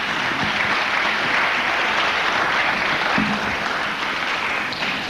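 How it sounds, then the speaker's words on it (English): An audience at a talk applauds the speaker in a thick, continuous round of clapping, loud and even throughout, with a faint voice surfacing briefly beneath it. "Let's give him another round of applause"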